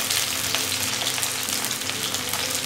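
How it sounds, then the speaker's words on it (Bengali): Cauliflower florets fry in hot oil for a simple winter vegetable dish, giving a steady, dense sizzle that stays loud and close throughout with no voices. "কপিগুলো একটু লাল লাল করে ভেজে নেব"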